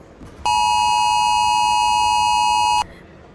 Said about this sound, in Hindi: फ़ोन एकदम like it got an blending alarm, बहुत भयंकर एक अलार्म बजने लगा।